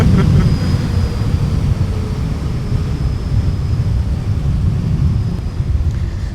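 A CyberBike electric motorbike accelerates in third power mode with a steady, loud roar, probably mostly wind rush, plus a faint high whine running throughout.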